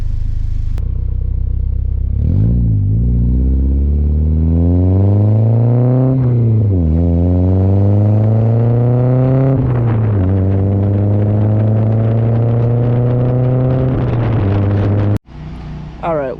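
A Nissan 240SX with an ISR single-exit GT cat-back exhaust revs repeatedly, engine pitch rising and falling in loud sweeps over a deep rumble, then cutting off abruptly near the end.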